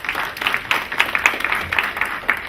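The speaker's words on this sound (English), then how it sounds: "so let's give him a big round of applause." Scattered, moderate clapping from a modest audience at a big data industry talk, individual claps popping irregularly over a few seconds without voices.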